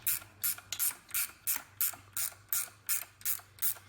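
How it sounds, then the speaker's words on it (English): A ratcheting wrench clicks rapidly and evenly in close-up, with about eleven crisp bursts over a few seconds while working on a GM belt tensioner. "Ratcheting wrench."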